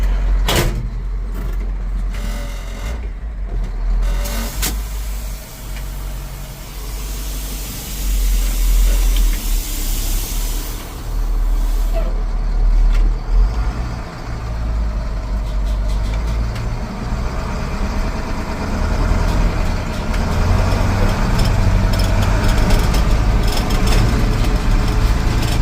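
A 1970 International Harvester flatbed truck with an automatic transmission runs and drives on an auction lot in Huron, South Dakota, its engine rumbling steadily and fairly loud throughout, with passing knocks and shifts in tone and no talk.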